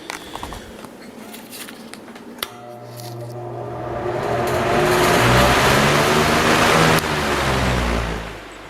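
A Lakewood 18-inch high-velocity fan with a PSC motor starts up, a whooshing rush of air rising steadily from quiet over several seconds and then holding at a loud, close, steady blow after a few faint clicks.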